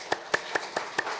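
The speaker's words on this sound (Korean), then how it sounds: "하나님께 감사의 박수를 드립시다" Five slow, evenly spaced claps ring out in a church during a Korean Sunday worship service, sharp and distinct with quiet gaps between them.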